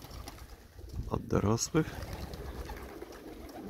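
Pigeons coo close by, a few soft rolling coos in the middle of the clip. Someone speaks nearby over quiet outdoor background noise.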